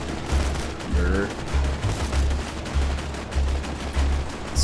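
Gunfire from an infinite-ammo gun in Borderlands 2, shooting bullymongs, comes as repeated bursts of shots in a steady rhythm at moderate loudness, with some game sound and voice mixed in.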